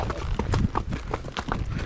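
Horse hooves clip-clop in a quick, uneven rhythm during a ride, close and fairly loud with a busy outdoor background.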